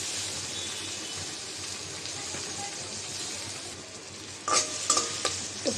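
Onions fry in oil in a kadai with a constant, close, hissing sizzle, joined near the end by a few sharp clinks of a utensil against the pan.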